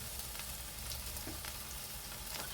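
Garlic and onion fry in a pan, giving off a steady, quiet sizzle that crackles evenly throughout with no voices over it.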